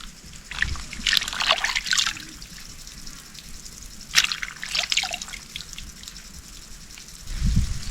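Muddy, freshly picked garden vegetables being rinsed by hand in water outdoors on a rural homestead, with intermittent splashing and trickling drips in uneven bursts, fairly close and moderately loud, with no talking.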